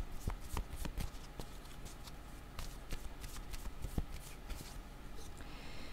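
Tarot cards are shuffled close by in quick repeated riffles and flicks, with soft crisp snaps of card edges and brief pauses between bursts.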